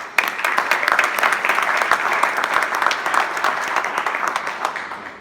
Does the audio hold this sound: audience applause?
yes